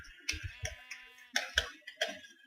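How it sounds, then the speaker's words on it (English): Several short sheep bleats from the Minecraft game (Feed The Beast modpack), repeated in irregular bursts with brief gaps, clear and close, alongside faint clicking. "Nice little pack of sheep."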